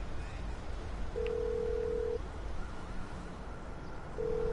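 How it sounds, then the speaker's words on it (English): Phone dialing tones in a video game as the player calls a mechanic, with two steady ringback tones over a constant low game background. "you call your mechanic from your phone"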